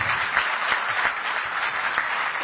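Sustained applause from an audience at a kavi sammelan poetry recital in Ghaziabad, a steady dense patter of many hands clapping together without pause.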